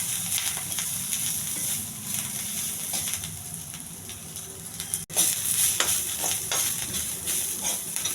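Fresh coriander and mint leaves fry in a pan on low heat, giving a steady close sizzle with soft stirring scrapes and a brief clatter midway.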